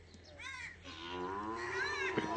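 A cow or buffalo on a farm lets out a long, drawn-out moo close by, rising and wavering for about two seconds, with faint farm background underneath.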